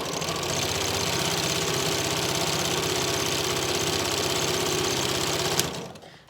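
A sewing machine runs steadily, stitching a skirt onto a Yup'ik qaspeq at an even, rapid pace for several seconds before stopping abruptly and falling quiet.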